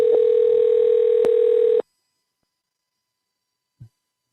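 Steady telephone dial tone hums loud and unbroken for nearly two seconds, then cuts off abruptly into silence, followed by a brief faint low thump near the end.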